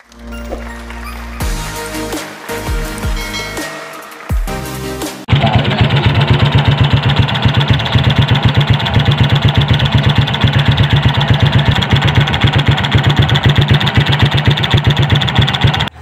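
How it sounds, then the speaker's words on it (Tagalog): Noisy Honda XRM motorcycle engine idling, starting with some clunks and revs before settling into a loud, rapid, steady putter with a rattly knocking edge, close up and alone. "troubleshoot natin itong Honda XR Mountain kasi maingay daw"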